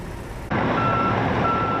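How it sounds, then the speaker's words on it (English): A truck's reversing alarm sounds nearby in two steady beeps over a loud, constant engine rumble, as trucks roll into a building on 11 Mile at night. "Truck after truck rolling into this nondescript building on 11 Mile for hours."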